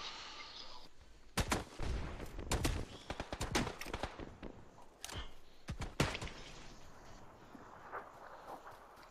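Bursts of rapid gunfire in PUBG, loud close shots scattered across the clip with short gaps between volleys over a steady background, with a few faint footstep-like taps.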